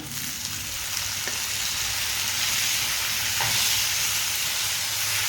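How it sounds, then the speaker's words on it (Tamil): Onion and tomato sautéing in a pan, a steady loud sizzle and hiss running throughout, with a couple of faint stirring taps, close and without talk. "வெங்காயம் பாதி வதங்கிடுது தக்காளி போட்டுக்கலாம்"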